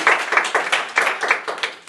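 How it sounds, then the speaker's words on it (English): Applause from a small class group after a teaching exercise, several pairs of hands clapping in a steady, fairly dense patter at moderate loudness, close by, with no talk over it. "Let's give these ladies a round of applause, please."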